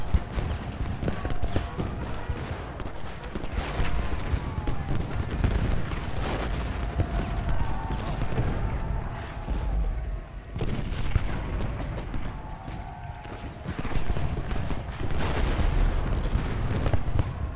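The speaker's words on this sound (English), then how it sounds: "my cannons hopefully will keep them at bay" Cannon and artillery fire in a Civil War battle video game set around Little Round Top, heavy booms repeating continuously over a dense, loud roar of distant battle noise with no break.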